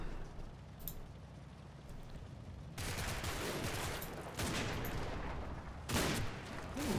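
Gunfire from the video game Combat Mission: Battle for Normandy comes as a few bursts of rattling fire over a low rumbling background, with sharp onsets spaced a second or two apart.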